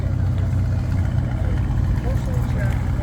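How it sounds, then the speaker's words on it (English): Car idling and rumbling at a Sunday morning car meet, a close, steady low exhaust drone with a slight throb, while people talk over it. "We'll get some exhaust."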